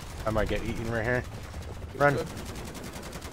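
Automated turrets in a zombies video game fire rapid, evenly spaced bursts of gunfire that run steadily through the whole stretch, with a player's shouted voice over the shooting.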